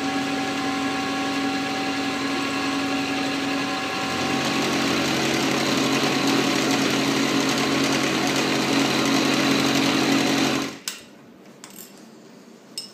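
A half inch end mill cuts metal for press brake dies, a steady whirring machine tone with a shift in pitch partway through before the machine stops abruptly near the end, leaving a quiet room.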